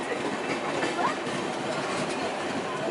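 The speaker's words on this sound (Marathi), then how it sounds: "आमची ट्रेन जाते गावाला आणि ही येते मुंबईला" A train bound for Mumbai runs past on the Konkan line near Ratnagiri with a loud, continuous rumble and rushing noise that holds steady throughout.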